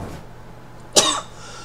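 A single sharp cough bursts out close to the microphone after a quiet pause, brief and loud, trailing off quickly into near silence, from a person playing an engine building game.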